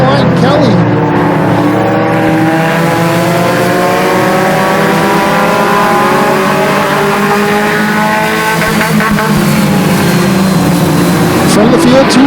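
Pure stock race cars roar around the Flamboro Speedway oval, engines rising and falling in pitch as they pass close by, while an announcer commentates over them.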